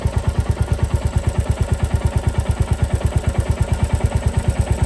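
Royal Enfield Classic Reborn single-cylinder motorcycle engine idling up close, a loud, steady, evenly spaced thumping beat throughout.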